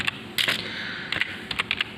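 Typing text on a computer keyboard in MS Word, close, crisp key clicks in short irregular clusters over a faint background hiss.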